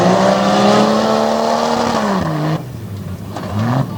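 On a dragway track, a racing truck's engine drones loudly and steadily, then its pitch dips and climbs again as it revs over bumps, heard up close with no talk.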